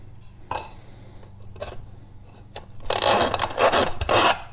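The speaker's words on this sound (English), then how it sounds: "It's going to start getting weaker as I drill my holes." Scraping, rasping metal noises with brief clicks, building into a louder, steady grinding burst near the end, as a drill bores holes in a thin aluminum can.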